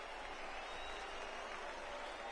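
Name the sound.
stadium crowd in video game MLB The Show 19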